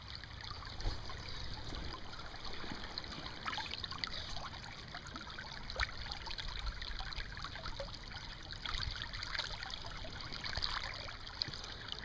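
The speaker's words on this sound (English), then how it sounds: "And this little waterfall thing." A small waterfall on a Pennsylvania trout stream pours and trickles continuously, a soft steady rushing wash with scattered splashes, heard alone at low volume.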